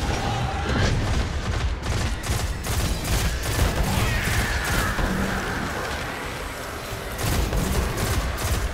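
Surus PDX auto rifle in Destiny firing on full auto, loud, dense, rapid bursts of shots nearly without pause, layered with booming impacts and other combat noise.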